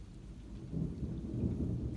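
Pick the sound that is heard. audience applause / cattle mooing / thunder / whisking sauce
thunder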